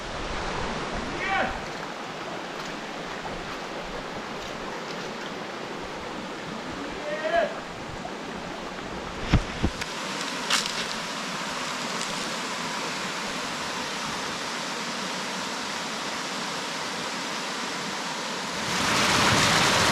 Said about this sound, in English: river waterfall, and it is most exhilarating, cold, pure, clean water.